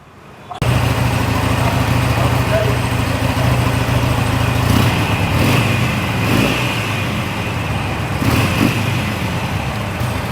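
A used 2014 Harley-Davidson Iron motorcycle with 48,000 km on it starts up and runs at a steady, loud, close idle with a deep rumble and a few slight throttle rises.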